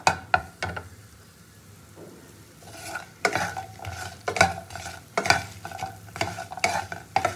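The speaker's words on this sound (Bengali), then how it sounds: "আমি আগে এই যে বড়ি নিয়েছি, বড়িটা আগে একটু ভেজে নেব" Lentil dumplings (bori) fry in hot oil while a spatula stirs them, giving irregular scraping clatters against the pan over a low steady sizzle, close and clear, with no talking.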